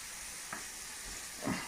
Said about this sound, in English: Just making sure that our garlic is not really touching the bottom of the pan so that it burns.